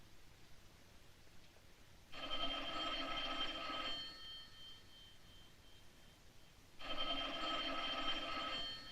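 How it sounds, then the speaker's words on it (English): An old telephone bell rings twice in a quiet room, each burst a couple of seconds long and separated by a pause, fairly close and clear. "Answer the phone."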